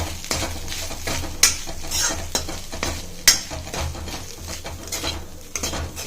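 A spoon stirs and scrapes peanut rice in a hot pan, giving continuous close scraping and clinking with a light sizzle and occasional sharper metal taps.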